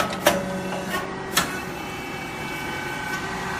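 A confectionery machine feeds material from a hopper into a mold, giving a steady mechanical hum broken by a few sharp clacks near the start.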